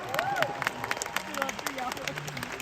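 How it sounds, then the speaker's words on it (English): An audience in a seminar hall applauds, with dense, steady clapping mixed with cheers and crowd voices, fairly loud and close throughout. "Can we all give ourselves a round of applause today?"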